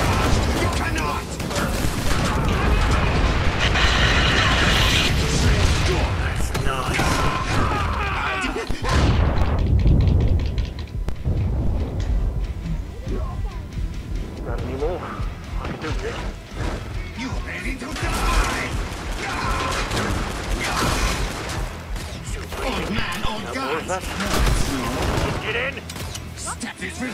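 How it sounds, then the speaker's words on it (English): Sustained barrage of gunfire, crashes and explosions in a League of Legends-style video game featuring Zed, loud and dense for most of the stretch, with excited voices talking over the din. "You cannot survive this barrage!"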